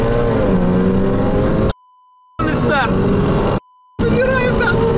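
A Stage 2 BMW M5 F90 of 840 hp and a Stage 4 Audi A3 2.0T of 600 hp launch from a drag race start, engines loud and roaring close by. The roar cuts out twice for a moment, and people talk over it.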